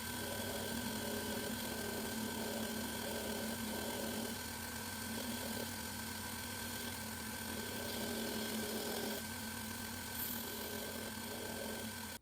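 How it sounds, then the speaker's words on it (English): A handmade friction folder knife being ground: a continuous loud motor drone with a gritty grinding texture that swells and eases in several passes, close up, with no talk. "I'm going to get back to grinding this."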